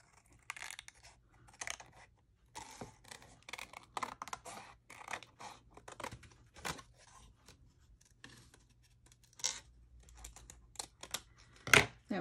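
Scissors snip through paper for a handmade craft bike tag, a series of short, crisp cuts and rustles, close and fairly quiet, in irregular bursts with pauses between.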